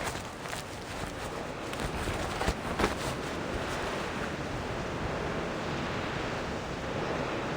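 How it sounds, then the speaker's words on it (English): Strong wind roars steadily in the video game Reverse: 1999, a dense, continuous gusting rush with brief swells and no voices. "What with this wind, eh? Where's it coming from?"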